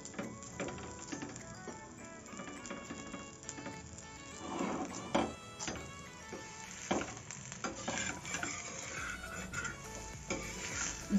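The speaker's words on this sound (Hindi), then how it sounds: "हल्का हल्का तेल लगाएंगे और इसको दबाते हुए सेकेंगे इस तरह से" Methi paratha roasting in oil on a pan, a soft sizzle under repeated scraping and pressing knocks of a spatula, fairly quiet and close, with no talking.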